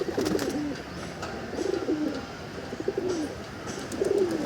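Pigeons in a loft coo repeatedly in soft, rolling phrases, several birds close by with a steady background of wing and cage noise and no talking.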